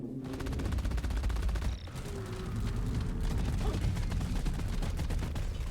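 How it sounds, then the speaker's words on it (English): Automatic gunfire in Deep Rock Galactic aimed at a breeder alien bug, a dense rattling fusillade with mechanical clanks running nearly the whole time and one short lull. "Shoot that breeder!"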